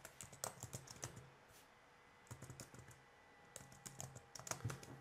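Someone types on a computer keyboard in several short bursts of quick keystrokes, faint and close, separated by quiet pauses.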